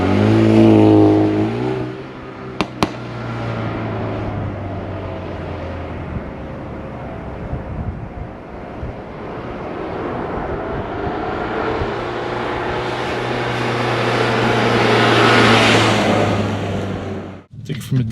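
A 2021 Mercedes-AMG A35 4matic hatchback accelerating hard from inside the cabin, its engine note rising loud and steady through gears with brief shift breaks and a faint background voice.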